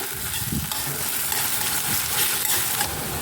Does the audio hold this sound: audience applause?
no